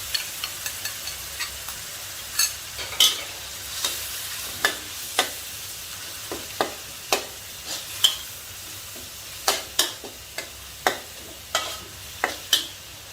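Enoki mushrooms stir-fry with minced pork and shrimp paste sauce in a pan, with a soft, steady sizzle under a run of sharp spatula clacks and scrapes that repeat every second or so, close up and alone.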